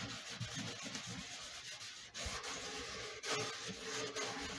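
Redwood guitar top being hand-sanded around its sound hole, a steady close scratchy rubbing with short stroke-like pulses and a brief pause midway, no talking.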